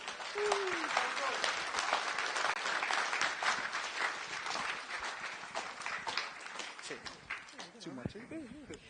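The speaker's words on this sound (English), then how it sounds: "Another round of applause, whakamā, for TimProvise" A crowd applauds performer TimProvise with sustained, thick clapping, and voices and cheers rise near the end as the clapping thins.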